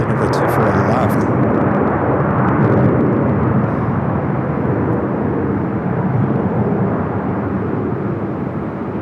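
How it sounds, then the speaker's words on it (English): A KLM airliner crosses runway 24 left at LAX, producing a broad, steady engine roar that is loud and sustained, with faint clicks near the start. "KLM now crossing over 24 left"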